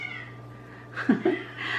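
A house cat meows a few times at dinner time, short wavering cries over a steady electrical hum indoors, fairly near and with no talk.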